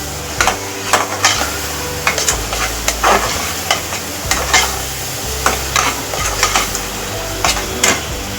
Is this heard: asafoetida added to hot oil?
yes